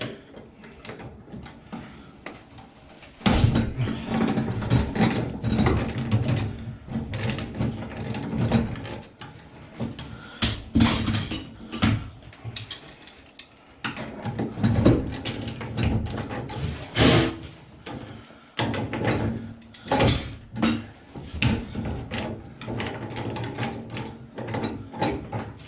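A Gerber multitool handle being worked open and unscrewed during repair, with close, busy mechanical clicks, ratcheting and metallic rattles in irregular bursts across the whole stretch, no voices.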